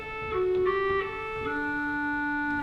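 A reedy, hollow clarinet stop on the Usher Hall pipe organ plays a short sequence of sustained notes, stepping between pitches and ending on a long held note; no talking.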